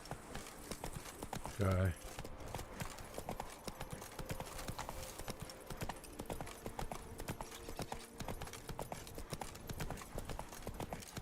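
Horse hooves clip-clopping at a steady trot in The Witcher 3: Wild Hunt, a regular rhythmic patter running throughout, with a brief spoken line from a voice near the start.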